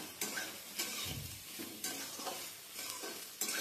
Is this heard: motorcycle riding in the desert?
no